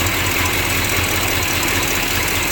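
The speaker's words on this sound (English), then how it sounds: "there is a small exhaust manifold leak, and it's on the passenger side" A 1955 Hudson Rambler engine, slightly cammed, idles steadily up close with a small passenger-side exhaust manifold leak; a faint, even ticking sits inside the continuous low rumble, with no voices.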